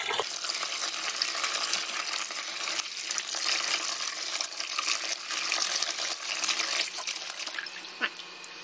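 Water is poured steadily into a container of aquarium gravel being washed. The hiss and splash is continuous and fairly close, with small gritty clinks of stones now and then.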